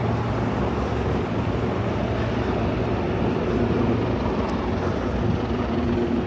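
A helicopter flies overhead between city buildings near Hudson Yards in New York City, making a steady, continuous rotor-and-engine rumble that fills the whole stretch with no talking.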